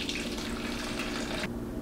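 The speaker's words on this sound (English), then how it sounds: "I'm going to strain this syrup" Lemon syrup from candied Ponderosa lemon peel pours through a strainer into a container, a steady close trickle and splash of liquid that cuts off near the end, with no talking.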